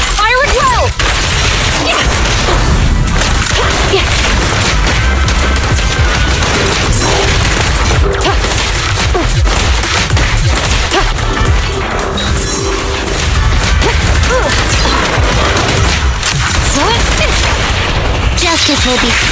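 Gunfire and crashing combat impacts from the video game Zenless Zone Zero, a dense, loud barrage of shots and smashes sustained throughout without a break.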